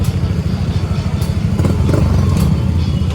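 A motorcycle test-ridden after repair, its engine running close and loud with a steady rumble and some clatter, while a person talks briefly over it.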